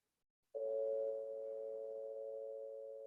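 A phone rings with a loud, steady electronic tone that starts abruptly and holds unbroken for a few seconds, with no voices over it.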